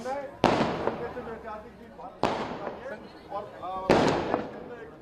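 Firecrackers set off in celebration of India's Champions Trophy 2025 cricket win over Pakistan: three sharp, loud bangs about every two seconds, each followed by crackling, with excited voices talking and cheering underneath.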